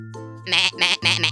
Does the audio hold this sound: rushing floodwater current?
no